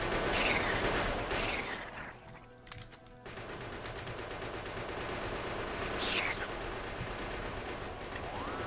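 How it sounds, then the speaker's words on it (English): Steady rapid gunfire aimed at aliens in Factorio, a continuous rattling stream of shots with a brief gap partway through and screeching creature noises over it. "I'm shooting as fast as I can."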